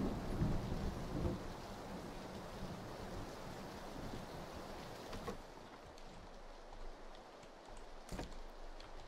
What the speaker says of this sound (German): Es regnet halt auch. Das ist ein bisschen blöd vom Ton her.